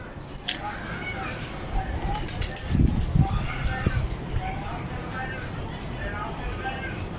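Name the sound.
pigeons flying and cooing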